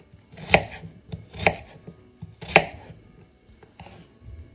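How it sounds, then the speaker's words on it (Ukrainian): A knife chops washed, peeled radishes into quarters on a board: three crisp, close knocks at an uneven pace, followed by fainter cutting taps, with no voices. "Промиту та очищену редиску нарізаємо на 4 частинки і складаємо все у миску."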